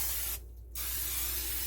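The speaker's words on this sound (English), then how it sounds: "I am actually going to spray mine with some olive oil" Olive oil sprayed into an open waffle maker: a single short aerosol hiss lasting under half a second, close and crisp, with quiet room tone around it.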